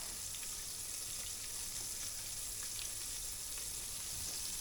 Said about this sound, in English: I'm going to keep doing this until all the prawns are nicely golden with a lovely coating on them.